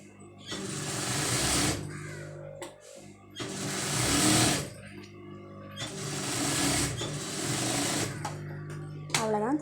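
A sewing machine stitches a blouse hem in steady whirring bursts, three long runs separated by short pauses, close and loud, with a voice talking over it.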